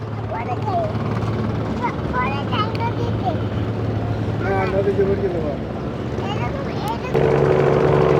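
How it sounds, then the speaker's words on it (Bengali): A river launch's engine drones steadily at Sadarghat launch terminal in Dhaka, a low continuous hum under close conversation, swelling louder in the last second. "এই লঞ্চটা এখন ছেড়ে যাবে"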